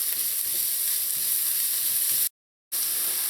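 Garlic sizzles and fries steadily in hot oil alongside onions in a pan, a dense continuous crackle with stirring, broken by a brief silent gap near the end.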